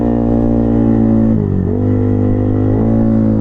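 Yamaha Aerox V2 215cc scooter engine with quick throttle revving, a loud continuous close drone that dips briefly and climbs back.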